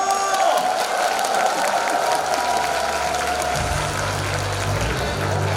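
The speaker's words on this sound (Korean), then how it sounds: "박수 한번!" Audience applause at a 2016 children's school performance and arts recital, a steady wash of clapping mixed with crowd noise and cheering, with talk and a low hum entering partway through.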